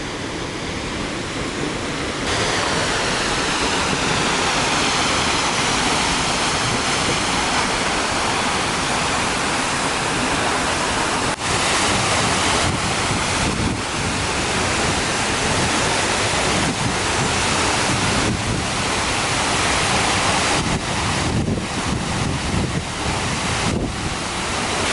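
A powerful waterfall in Iceland roars continuously at close range, a dense, unbroken rush of falling water with wind buffeting the microphone throughout.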